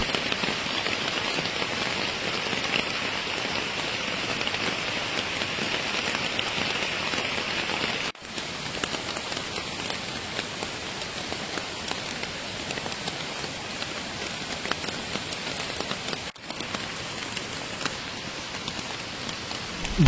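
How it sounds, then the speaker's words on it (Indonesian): Heavy rain pours steadily at night in a forest, a dense, continuous hiss of drops on surfaces with no voices, briefly dipping twice before resuming at full strength. "hujan pun mengguyur dengan sangat deras."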